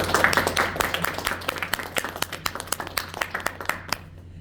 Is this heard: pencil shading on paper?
no